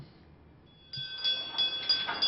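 An electric school bell rings at a small school, a sudden bright metallic ringing that starts after a quiet moment and keeps going with a slightly pulsing buzz.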